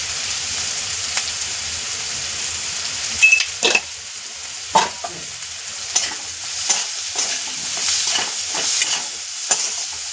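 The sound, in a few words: spices being sautéed in oil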